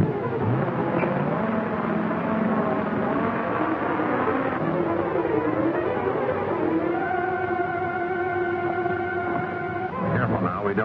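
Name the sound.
car engine speeding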